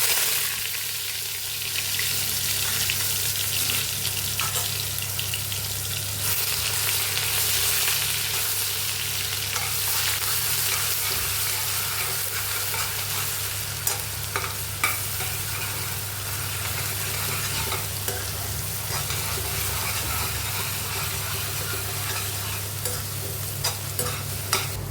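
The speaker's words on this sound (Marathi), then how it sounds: "तर मी याच्यामध्ये 1 कांद्याची पेस्ट केलेली होती ती टाकूयात" Onion paste fries with bay leaf, cinnamon, cardamom and cloves in a pan for dum aloo, a continuous close sizzle with a spatula repeatedly scraping and stirring, a few sharper clinks toward the end, no talking.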